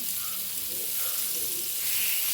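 Continuous close sizzling and hissing of food shallow frying in a pan, even and moderately loud throughout, with no talking.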